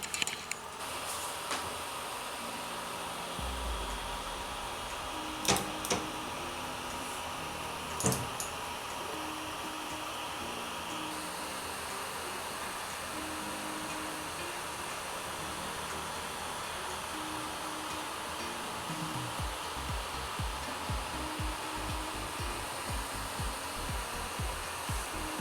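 A Creality Ender 5 3D printer with an upgraded 1.1.5 board runs with a quiet, steady fan-like whir, marked by a few faint clicks and small bursts of motor movement.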